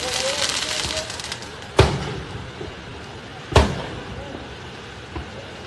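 Explosions in a parking lot in Brasília, two sharp loud booms a couple of seconds apart followed by a fainter third, set against a noisy background.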